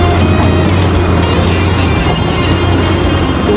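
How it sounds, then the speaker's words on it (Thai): A large Caterpillar 6015B hydraulic excavator runs in a town setting, its heavy diesel engine producing a loud, continuous, steady drone with a deep low rumble and no audible speech. "ตัวนี้ก็จะเป็นแคท 6015ปี รถขุดขนาดใหญ่นะครับอยู่ในเมืองเนาะ"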